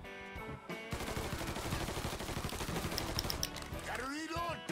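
Rapid automatic gunfire in a video game, a dense rattling burst lasting several seconds, with someone talking briefly before and after the shots.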